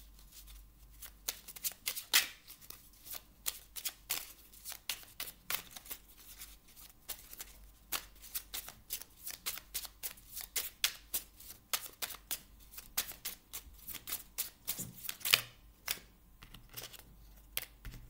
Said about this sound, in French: On va aller prendre une carte maintenant du petit oracle de Merlin.